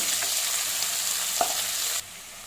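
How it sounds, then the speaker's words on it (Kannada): Onions frying and stirred in a pan until brown for hotel-style chana masala, giving a loud, steady sizzle with a sharp scrape of the spoon before it suddenly cuts quieter near the end. "ಈರುಳ್ಳಿ ಬ್ರೌನ್ ಕಲರ್ ಆಗೋವರೆಗೂ ಈ ರೀತಿ ಚೆನ್ನಾಗಿ ಫ್ರೈ ಮಾಡ್ಕೊಳ್ಳಿ"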